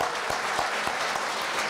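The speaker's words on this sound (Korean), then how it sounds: "열심히 하라고 박수, 큰 박수 한번 좀 부탁드립니다." Dense, steady applause from an audience at an alumni association New Year gathering and general meeting, filling a large hall with continuous clapping.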